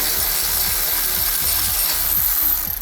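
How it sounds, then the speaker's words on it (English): A power tool removing a bolt from a BMW's rear brakes whirs loudly and continuously, with a steady rhythmic mechanical clicking running underneath, close by. "Power tool."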